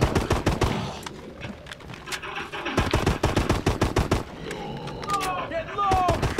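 Rapid bursts of automatic gunfire shooting at zombies in the Exo Zombies mode of Advanced Warfare, loud, dense, repeated shots in steady rhythm with brief pauses and some game effects over it.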